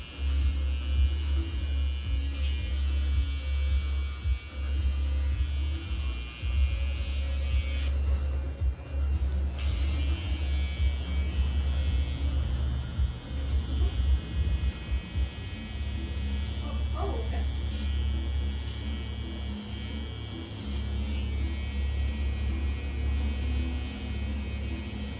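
Electric hair clippers buzzing in a barbershop while cutting a very light taper on a short crew cut, a steady low hum with a brief pause, under occasional talk.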